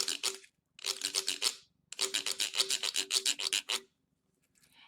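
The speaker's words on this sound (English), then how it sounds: "Whenever we're scraping, if we scrape the metal ridges," Metal ridges on a homemade shaker instrument scraped in three bursts of quick, rhythmic rasping strokes, close and fairly loud, with short pauses between runs and no talk.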